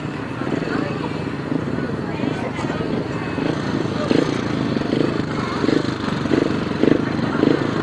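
Engines of 500cc sidecar grasstrack racing motorcycles rumble and rev at the start line of a race, a dense continuous roar with rising throttle blips, under loud commentary.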